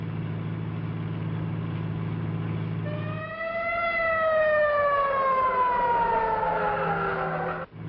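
A fire engine siren from a 1938 film wails up and then slowly winds down over steady engine rumble, loud and close, with no voices over it.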